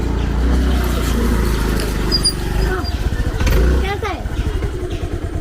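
A motorcycle engine runs with a low, pulsing throb under people talking close by, its note rising and falling briefly midway.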